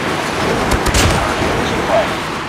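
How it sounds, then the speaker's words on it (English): Airstrike explosions in the mobile shooter Call of Duty Mobile during a Hardpoint match on the Crash map, a dense rumbling barrage of booms and blasts packed into a few seconds. "Online, airstrike."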